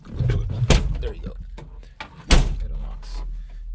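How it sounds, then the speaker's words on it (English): Power door lock actuator on a Datsun 521 fitted with a retrofit keyless entry kit, heard as two short clunks close by with a faint whirr, with someone talking over them. "So if I lock the door, it locks."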